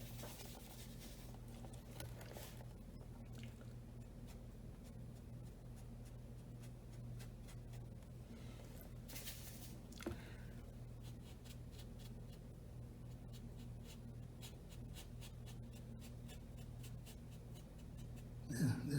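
A watercolor brush strokes paper with the bristles barely touching while a palm tree is painted, giving a soft, faint, steady scratchy brushing over a low background hum, with no one speaking.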